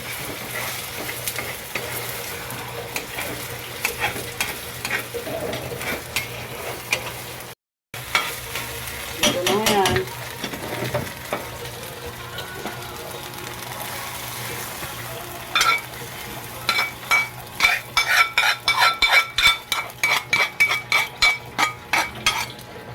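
Dried fish (daing) frying in a pan for breakfast, a steady close sizzle with clinks of utensils and a brief dropout, then a run of rhythmic scraping or tapping near the end.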